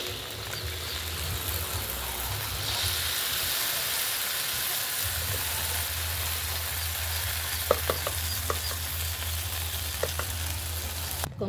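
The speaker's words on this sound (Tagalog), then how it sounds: "adding sauce" Sauce hits spaghetti in a hot pan with a continuous sizzle and frying hiss. Stirring scrapes and a few light clicks come through toward the end.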